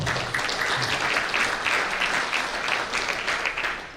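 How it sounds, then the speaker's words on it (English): An audience at the Gulf South Conference awards ceremony applauds steadily, with a full, even round of clapping from a sizable crowd that continues throughout. "Let's give Tommy a nice round of applause."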